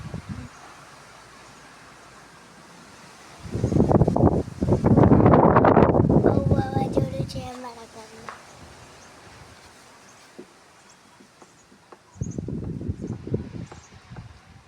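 Strong stormy wind in Kutch buffets the microphone in irregular roaring gusts, loudest in a long surge early on and again near the end, with quieter rustling between.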